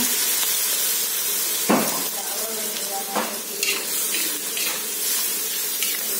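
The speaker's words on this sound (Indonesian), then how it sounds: "Kemudian saya akan masukkan air sedikit ya." Water poured into a hot frying pan of stir-fried meat or snails while making fried rice vermicelli (bihun goreng), with a steady loud sizzle broken by a few sharp bursts and stirring scrapes.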